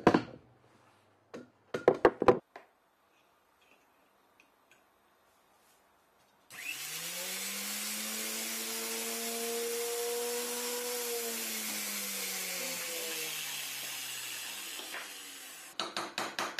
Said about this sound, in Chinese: 由于打孔的工作比较危险，所以接下来这个工作同样也由我来进行